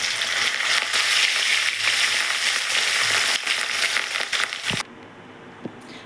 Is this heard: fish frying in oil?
yes